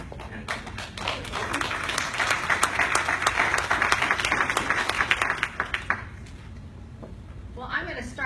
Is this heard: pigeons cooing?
no